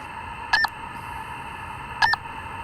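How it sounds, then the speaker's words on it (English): Two short electronic beeps about one and a half seconds apart from a bat-tracking radio telemetry transmitter held close to the receiver antenna, through a steady radio hiss, crisp and close. "I'm holding the transmitter very, very close to the antenna receptacle so that you can hear the beeping"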